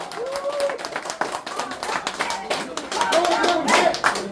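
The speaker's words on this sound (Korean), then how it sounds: "큰 박수 주세요" Scattered clapping from a small group blends with overlapping chatter and cheering voices, steady and lively throughout.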